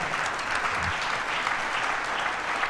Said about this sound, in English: how about a round of applause for Keisean Nixon and Carrington Valentine tonight?